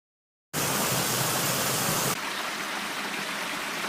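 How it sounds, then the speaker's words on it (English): Steady trickling forest stream, a dense continuous hiss of water that starts abruptly and runs loud and close, then drops to a slightly softer level partway through with no voices. "It should be just kind of a trickle in the forest"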